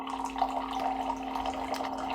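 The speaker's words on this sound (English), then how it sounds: "I confirm everything here with the lever, and the nice warm hot water comes out directly" Filtered warm water pouring from a Jimmy R9 Pro water dispenser, a steady close trickle and splash with a constant tonal hum from the machine, no talking.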